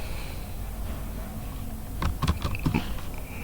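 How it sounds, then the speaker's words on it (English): Someone types a short burst of keystrokes on a computer keyboard, close and crisp, after a quiet stretch of room hum. "so we're simply just going to type"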